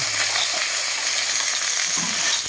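Snails stir-fried in a hot pan, a loud continuous sizzle and hiss with faint scraping of stirring, steady throughout and close up.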